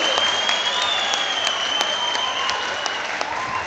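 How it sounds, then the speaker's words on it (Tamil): A crowd at a stage event claps loudly in support of Ramadoss, a sustained and dense round of applause with a few sharper claps standing out, and no talking over it. "கைத்தட்டி பலமா ஐயாவுக்கு ஆதரவு சொல்லுங்க"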